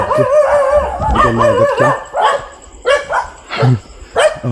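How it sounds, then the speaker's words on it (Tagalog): A dog barks repeatedly at night near an abandoned building on the 1000 Steps nature trail, sharp loud yaps close by mixed with drawn-out whining howls, in uneven bursts. "May aso."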